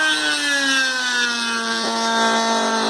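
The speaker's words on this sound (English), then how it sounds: "turn the Dremel on. Don't crank it all the way up. We don't need it all the way. And we're going to just sand some lines into it." Dremel rotary tool held below full speed, sanding wavy lines into a PVC aquarium log; a steady, close, whining motor drone with tonal lines that slide slowly downward as the bit bears on the plastic, heard alone.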